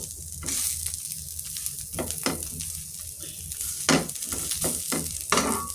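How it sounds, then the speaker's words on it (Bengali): Spicy paratha frying on a hot tawa, a steady close sizzle broken by several sharp scraping and stirring strokes as the flatbread is pressed and turned. "এই যে আমার ঝাল পরোটা আমি ভেজে নিলাম"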